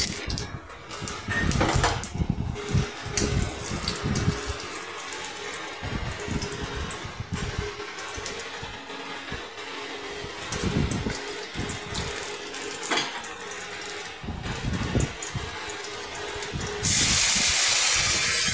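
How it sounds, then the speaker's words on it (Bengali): Water is drained off soaked aatap rice in a home kitchen, a close, uneven run of splashing and trickling that ends in a louder, steady hiss of flowing water. "জল ঝরানো"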